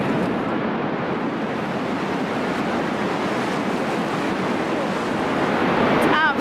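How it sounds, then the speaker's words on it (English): Sea waves break steadily on the shore, a dense continuous roar of surf with wind buffeting the microphone, and a brief faint whistle-like sound near the end. "just to hear the sounds of the water and to see it"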